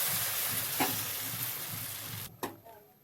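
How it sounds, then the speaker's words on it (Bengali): Flour batter for a fish patisapta crepe frying in a little oil in a hot wok, a steady close sizzle with a soft stir scrape and a sharper clatter near the end. "মেখে রাখা ময়দাটি গরম করার মধ্যে দিয়ে দেবে এইভাবে"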